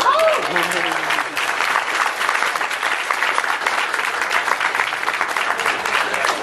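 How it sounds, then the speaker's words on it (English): A comic con panel audience breaks into loud, sustained applause that fills the room evenly, with a voice speaking briefly at the start. "Give him a round of applause"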